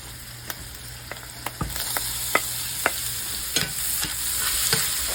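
Chopped onion and garlic hit a hot skillet and sizzle steadily, with a constant bright hiss broken by scattered clicks and scrapes of stirring, close and fairly loud.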